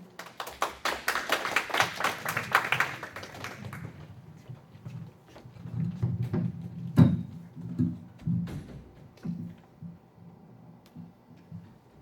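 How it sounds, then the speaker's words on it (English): Applause after a lyric recitation of a song is a sparse, uneven scatter of hand claps from a small audience. It opens brighter and denser, then thins to scattered claps and faint shuffling. "Let's give a round of applause"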